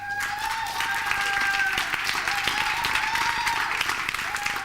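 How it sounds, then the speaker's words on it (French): Indoor audience applause at a youth programme event, a sustained even wash of many hands clapping at moderate distance, with a faint high tone running beneath it. "On peut l'applaudir."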